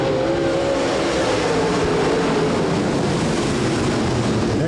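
Midwest Late Model race cars run a feature race at Rapid Speedway during a nationals night. A steady, loud roar of several engines fills the air without a break, with a faint rising and falling engine tone.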